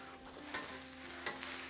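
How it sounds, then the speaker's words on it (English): Seared vegetables, including cabbage, sizzle on a Vulcanus grill, a soft steady frying hiss broken by two sharp clicks or scrapes, close and quiet with no talking. "I'm hearing a lovely sizzle."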